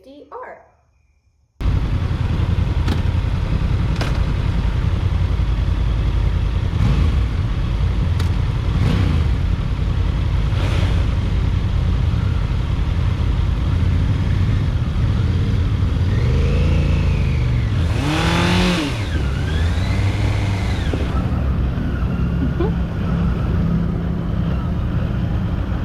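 Honda CB650R motorcycle on a demo ride, its engine loud and close after a quiet start, with steady throttle roar and rising and falling revs as it accelerates and shifts, mixed with wind noise.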